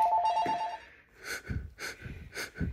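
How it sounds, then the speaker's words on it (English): A warbling telephone ring sounds briefly and close up, then cuts off, followed by a string of breathy gasps and exhalations. "I'm about to answer this phone."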